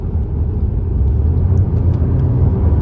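A BMW 4 Series sports car on the move gives a steady, loud low rumble and whir of engine and road noise from inside the cabin.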